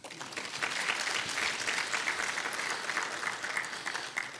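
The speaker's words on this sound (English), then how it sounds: "Please clap for yourself." A conference audience applauds itself at a customs and trade event, a steady wash of many hands clapping at moderate distance, sustained and even for several seconds without speech.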